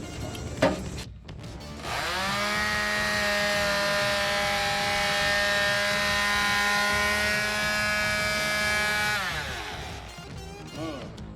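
An electric sander powered by a solar setup whirs up to a steady, loud hum, holds it for several seconds, then winds down, with brief voices before and after.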